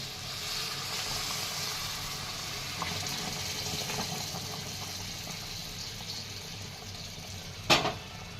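Water poured into a simmering eggplant curry makes a steady, even rushing hiss that carries on for several seconds, then a single knock of a pot or utensil near the end.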